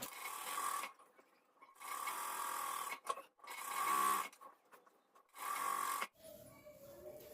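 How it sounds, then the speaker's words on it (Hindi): A sewing machine stitches along the folded edge of an Afghani salwar in four whirring bursts separated by brief pauses, ending with soft handling of the fabric. "यहाँ पे इसके एकदम किनारे पे सिलाई लगा लेना है।"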